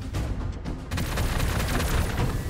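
Cannon fire in the Warhammer 40k: Gladius video game, with dense booming blasts and rumbling impacts that run close and loud through a short, continuous burst of battle.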